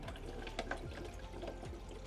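Small electric water pump in a homemade Peltier-cooler air conditioner pushing water through tubing to a radiator, a steady close gurgling flow with no talk.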